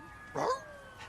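A single short whine or yelp from a dog, brief and fairly close, followed by a faint quieter cry.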